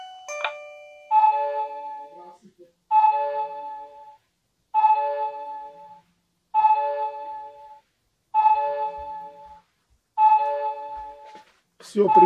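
Wireless Tuya video doorbell chiming as a notification, a clear ding-dong melody repeated six times at regular intervals in a quiet room, ending with a brief rustle.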